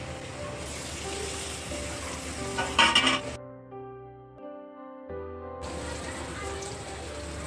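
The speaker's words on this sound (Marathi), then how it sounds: "आता आपला कांदा जरा ब्राऊन झालाय, त्याच्यात टाकूया टमाटा" Tomato tossed into browned onion in a pan while cooking a village-style green-masala brinjal and potato curry: a steady sizzle with a brief clatter, a short tonal pause, then the sizzling resumes at close range.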